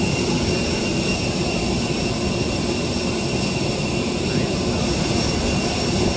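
A jet airliner's engines drone steadily in flight, heard from inside the cabin as a constant, loud, even roar with a faint high whine.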